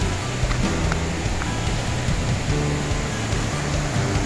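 The Sam Sai waterfall, a tourist spot in Thailand, makes a continuous broad roar of falling and rushing water, loud and close, with no pauses.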